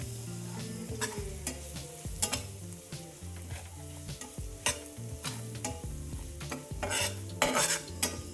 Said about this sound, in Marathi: थोडासा काळा मसाला आणि बॅडगी मिरची पावडर. आता हे चांगलं आपल्याला परतून घ्यायचे.